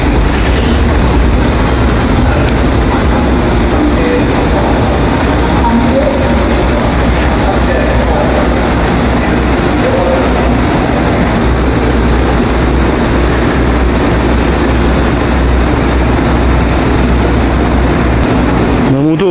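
A subway train ride in hot summer weather, a loud, continuous rumbling roar of the moving carriage filling the whole stretch with no clear breaks.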